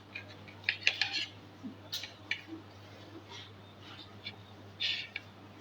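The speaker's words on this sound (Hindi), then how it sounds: "तो अब मैं ब्रेड के स्लाइस की कटिंग करूँगी।" Slices of bread are cut with a knife, heard as sparse, light clinks and taps of the blade on a board or plate in a quiet room, with no talking.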